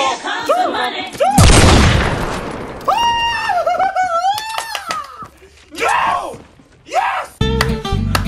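One loud, rushing sticky bomb blast erupts in Fortnite Battle Royale gameplay, set amid excited shouting and wailing voices that fill the rest of the moment.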